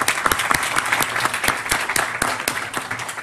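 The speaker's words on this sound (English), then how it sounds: "They deserve another round of applause." A round of audience applause for the moderators and panelists at a United Nations 70th anniversary youth event, a brief burst of many hands clapping with a few sharper, closer claps standing out.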